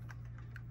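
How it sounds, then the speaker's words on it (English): Light, quick keystrokes on a computer keyboard, a few soft clicks in a short, quiet burst. "what I'm going to do is I'm going to type out list,"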